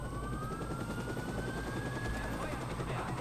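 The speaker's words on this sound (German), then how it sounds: "Der Helikopter da irgendwo, ja, den Helikopter können wir ja auch Dings, ne?" Helicopter in the video game Watch Dogs, a steady low rotor thumping under game noise with a faint rising whine, while a player talks over it.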